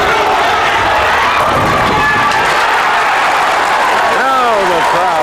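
A bowling crowd at a professional tournament cheers and applauds a bowler's strike run, a loud sustained roar with whoops and clapping, rising shouts toward the end.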